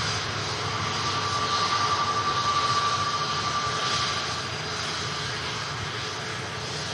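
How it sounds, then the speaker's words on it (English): New airliner on its second day of service at Manchester Airport, rolling along the runway with a loud, steady engine roar and a faint whine held throughout. "Beautiful new aircraft."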